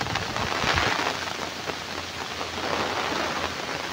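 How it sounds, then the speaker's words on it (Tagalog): Heavy rain pours down over flattened rice fields in a Philippine province, a dense, steady hiss of drops drumming on surfaces, continuous and fairly loud with no talking. "Ay, grabe ang ulan."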